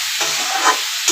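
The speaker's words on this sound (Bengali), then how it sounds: "তারপরে মশলা বাটাটা দিয়ে দিলাম, দিয়ে ফের একটু নেড়ে চেড়ে নিলাম" A brief, loud, close burst of sizzling comes from spices and ground masala paste frying in a pan, with a few quick stirring scrapes rising out of the hiss.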